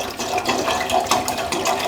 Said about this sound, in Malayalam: അപ്പോൾ നമ്മൾ 2 ലിറ്റർ വെള്ളം ഇട്ട് അടുപ്പത്തിച്ച് തിളപ്പിക്കണേ.